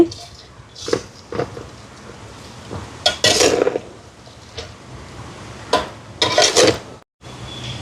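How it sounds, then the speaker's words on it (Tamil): Turmeric powder being stirred with a little coconut oil into food in a pot, a spoon scraping and clinking against the metal in several short bursts with quiet pauses between, close by. "மஞ்சள் தூள் கொஞ்சம் விட கலந்து விடுவோம் இந்த மாதிரி"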